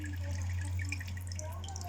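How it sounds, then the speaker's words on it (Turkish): Water trickles steadily down a small Hot Wheels toy track like a waterfall, a soft continuous splashing over a faint low hum, with no voices. "Buradan da şelale şeklinde su akıyor gördüğünüz gibi"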